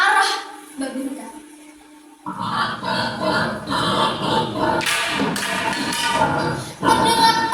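A wild boar squeals in pain, a storytelling sound effect: a loud, harsh run of shrieks and grunts after a brief quiet stretch, rising into a dense burst near the end.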